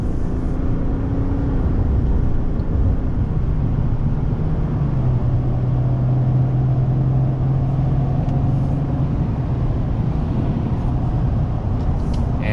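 A 2024 Chevy Silverado ZR2 diesel pickup merging onto a highway, heard from inside the cab as a steady, loud low engine drone and road roar with a rising then settling tone, and no talking.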